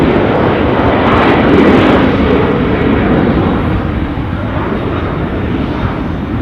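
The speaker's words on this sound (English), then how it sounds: "Embraer 190." An Air France Embraer 190 jet departs an airport, its engines giving a loud, steady broadband roar that fills the whole clip with no break, with no voices over it.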